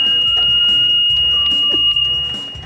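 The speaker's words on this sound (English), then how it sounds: "I heard the smoke detectors go off." A household smoke detector sounds a steady high alarm tone, loud and close, over a busy background of other indoor sounds.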